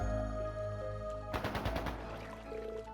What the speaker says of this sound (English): Is that gunfire? Sounds like it's a little ways from the village.